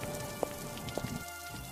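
Cartoon rain falls as a steady broadband hiss of drops on surfaces, with a few brief louder drips, continuous and fairly faint throughout with no talking.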